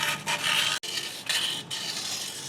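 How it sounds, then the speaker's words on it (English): Hand sanding scuffs the axle-seal and bearing seat area of a Ford 9 inch rear axle housing, steady rasping strokes close up with a brief pause midway, no talking. "I'm gonna sand it down a little bit where the axle seal goes"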